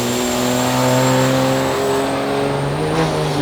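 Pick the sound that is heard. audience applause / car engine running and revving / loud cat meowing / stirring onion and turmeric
car engine running and revving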